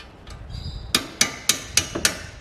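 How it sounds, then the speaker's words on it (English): A hammer strikes a brick against bolts in Subaru WRX suspension during a coilover install, giving five sharp metallic blows at an even pace, close and loud, after a faint clink. "I've got a hammer and brick to punch both the bolts out"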